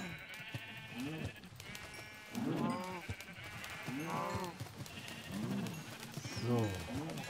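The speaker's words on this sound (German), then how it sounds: "Und die Schafe wollen auch noch ein letztes Mal fressen, bevor sie sterben." Sheep in the video game Minecraft bleat several times at moderate volume, spread across the passage, while someone talks in German throughout.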